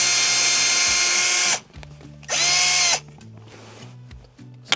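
A power drill whirs loudly in two sustained bursts while backing bolts out of the dash of a 2003 Land Cruiser, close by, with a faint mechanical rattle between runs.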